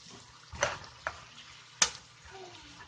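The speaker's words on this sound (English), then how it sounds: "Okay, give this a good stir." Vegetable bibimbap with gochujang stirred in a pan, three quick scraping knocks of a utensil against the pan over a faint sizzle, close and without talk.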